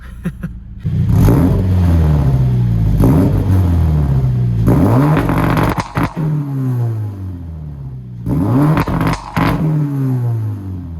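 A Toyota GT86/BRZ with a swapped 2.4 engine revs hard on a dyno, loud repeated wide-open bursts that climb and fall in pitch, with brief drops between pulls and a steady rumble throughout.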